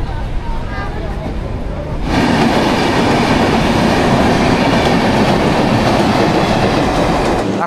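A Danapur Intercity Express passenger train runs on rails, first heard more softly, then loudly and close for the rest of the clip as a steady roar with rattling wheel noise.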